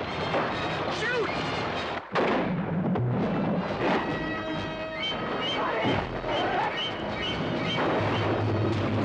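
Gunfire shooting at a shark in the trailer for the 1975 film Jaws, a dense, loud continuous barrage of booming shots and blasts layered under shouting voices for about nine seconds.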